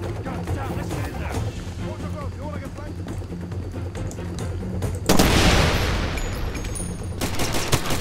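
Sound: gunfire in a fight, Far Cry 2 video game

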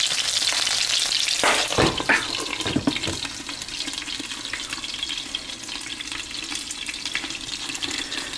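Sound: chicken wings frying in a covered pan

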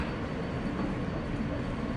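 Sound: subway train riding toward Rockefeller Center

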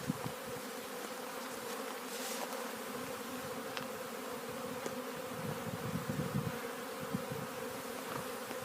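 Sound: honeybees flying around the hive

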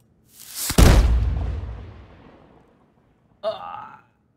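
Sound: cannon firing

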